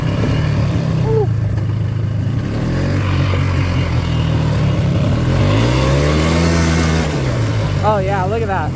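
A four-wheeler ATV in low four-wheel drive works hard, its engine droning loud and steady with rising and falling revs, while people can be heard talking and whooping over it.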